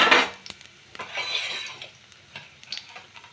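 Food being fried and stirred in a pan while making pudina (mint) rice, with a loud scrape at the start, then soft sizzling and light clinks of a spoon against the pan, close and without talk.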